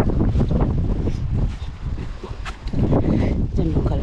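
Gusty wind buffets the microphone with a steady low rumble on a chili farm in Korea, a voice talking loudly over it.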